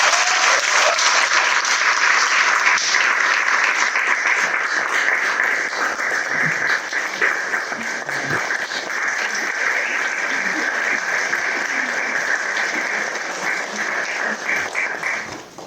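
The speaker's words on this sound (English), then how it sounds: "A hand of applause for Matilda Nyathi." Sustained applause from a seated audience at a business panel discussion, loud and dense for about fifteen seconds before thinning slightly near the end, with no voices above it.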